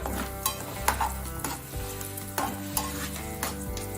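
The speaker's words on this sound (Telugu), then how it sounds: "నేను బాదం కాజు ఫ్రై చేసుకుంటున్నాను." Almonds and cashews fry in ghee in a pan, a steady close sizzle broken by repeated clanks and scrapes of a stirring spoon against the metal, with no one speaking.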